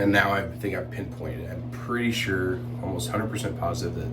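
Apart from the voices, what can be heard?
No everyday noise stands out behind the speech.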